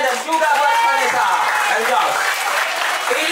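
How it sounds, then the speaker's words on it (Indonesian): An audience at a one-day English and character camp for youths applauds, a dense, steady wash of clapping filling the short moment close and loud, with voices mixed into the crowd. "Sekali lagi tepuk tangan buat kalian dan juga buat Vanessa."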